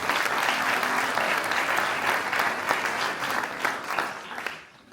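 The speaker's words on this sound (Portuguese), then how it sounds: "peço-vos uma salva de palmas para ele" An audience applauds after a speaker is introduced at a mental health talk in Lousada. The clapping is dense and sustained, with individual claps distinct, and it fades out toward the end.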